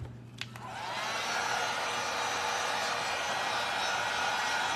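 A hair dryer runs steadily and loudly close by, drying the painted ears of an Easter door hanger craft; after a short start it holds an even, continuous blowing whir with no talking.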